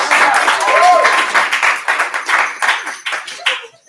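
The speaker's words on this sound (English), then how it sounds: "Give a round of applause." Audience clapping for two high school drama students coming up at a Christmas improv night, loud close applause with a few cheers, fading out toward the end.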